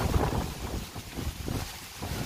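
Steady gusty wind buffeting outdoors beside the sea at a beach resort, rumbling and rushing continuously with faint surf underneath.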